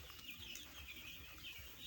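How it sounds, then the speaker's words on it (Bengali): Eight-day-old chicks, about a thousand of them, peep in a poultry shed, their high chirps overlapping in a faint, constant chorus. "এখানে 1000 মুরগির বাচ্চা আছে, একটা বাচ্চাও মারা যায় নাই 8 দিন বয়সে"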